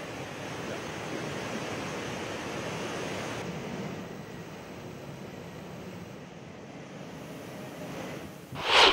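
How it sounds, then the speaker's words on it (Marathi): Water discharged from the Gangapur dam rushes in a steady, broad roar, with a louder surge at the end. "वेगानं पाण्याचा विसर्ग सुरू आहे"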